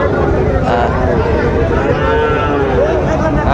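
A cow moos loudly and repeatedly at a cattle market, long drawn-out lowing calls close by, with a murmur of people in the background.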